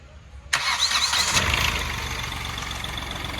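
A 2017 i10 Magna diesel car engine cranks and catches, then settles into a steady, smooth idle close by.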